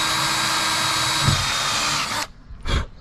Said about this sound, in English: Okay, so I'm gonna pre-drill.